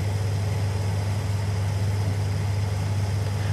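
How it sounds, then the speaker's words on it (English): A tractor engine in Farming Simulator 19 drones steadily at idle, with a deep, even hum that stays unchanged throughout. "Let me cruise on over here to the other tractor."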